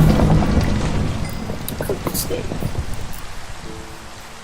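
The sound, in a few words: rain and thunderstorm in Minecraft video game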